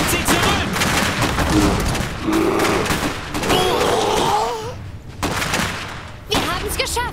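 Rapid bursts of gunfire crackle amid a chaotic battle in the video game Iron Harvest, with shouted German voices breaking through between volleys.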